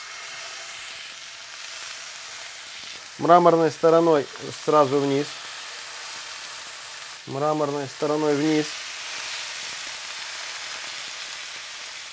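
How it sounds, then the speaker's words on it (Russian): Steaks searing in a very hot frying pan give a steady sizzle and hiss throughout, with someone speaking briefly over it twice. "Обжариваем стейки, как и все остальные. Хорошенечко раскалили сковороду."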